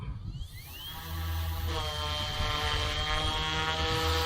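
The motors and rotors of a YU XIANG F08 RC helicopter spin up on turf, a whine that rises in pitch and swells into a steady loud buzzing hum of the kind heard at takeoff.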